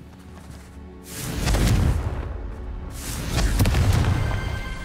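Two heavy booming blasts from the Confringo fire spell in Hogwarts Legacy, each a deep, rumbling explosion swelling and lingering a moment before fading.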